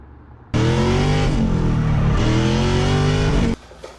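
An LS3 V8 swapped into a Nissan 350Z drift car roars into a loud, sustained rev lasting about three seconds, its pitch rising and dipping, then cutting off sharply, recorded close with no talk.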